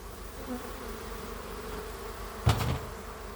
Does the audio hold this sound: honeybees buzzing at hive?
yes